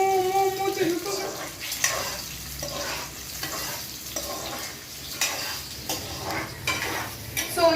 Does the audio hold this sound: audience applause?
no